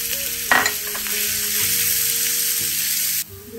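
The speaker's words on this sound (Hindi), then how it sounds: "जीरा फ्राई होने के बाद ये मैंने एक प्याज लिया था, उसको बारीक काट लिया, उसको डाल देते हैं।" Finely chopped onion drops into a pan of hot oil with fried cumin and bursts into a loud sizzle, then keeps hissing evenly while stirred before the sound drops away sharply near the end.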